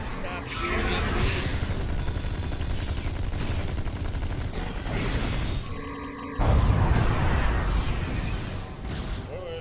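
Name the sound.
gunfire in video game Star Trek Online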